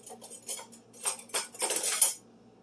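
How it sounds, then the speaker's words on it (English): Metal kitchen utensils clink and rattle as a whisk is picked out from among them while meatloaf is being prepared, several light clattering bursts close by with no talking. "I grab my whisk."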